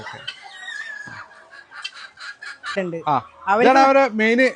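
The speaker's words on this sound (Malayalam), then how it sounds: "ഏതായാലും എല്ലാ കോഴികളും ഉണ്ടല്ലേ?" Several chickens cluck and squawk close by, their calls overlapping and growing louder toward the end, with no talking.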